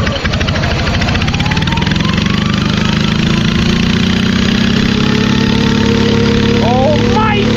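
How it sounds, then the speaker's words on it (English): Riding lawn mower engine at half throttle, driven through mud, a loud steady drone that rises in pitch as it revs, very close throughout, with excited shouting over it. "I feel like this mower is freaking loud right now."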